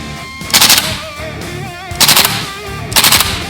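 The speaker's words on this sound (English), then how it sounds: "It's loud, pretty loud too, especially for an airsoft gun." An airsoft gun fires three loud bursts in a shop setting, each short rapid string of shots separated by pauses of about a second, with quieter background noise between.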